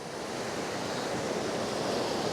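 Sea water washes in against a groyne at dawn, a steady, broad rush of surf close by that fills the whole moment without pause.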